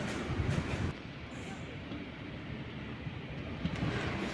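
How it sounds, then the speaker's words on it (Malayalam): A passenger train pulls into Kazhakkoottam railway station in Thiruvananthapuram, its steady low rumble and rolling wheel noise holding at a moderate level, with a brief hiss early on and faint squeal near the end. "അടുത്ത റെയിൽവേ സ്റ്റേഷനിലേക്ക് നമ്മുടെ ട്രെയിൻ വന്നിട്ടുണ്ട്, കഴക്കൂട്ടം റെയിൽവേ സ്റ്റേഷൻ"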